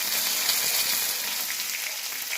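Mustard seeds, curry leaves and green chillies sizzle in hot oil with a steady, even crackle. The sound is close and continuous, with a few faint pops and no talking.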